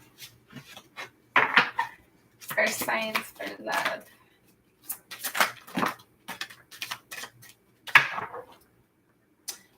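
Tarot cards are shuffled and tapped in bursts of crisp, close riffling and clicking, broken by short pauses, with a person talking between the shuffles.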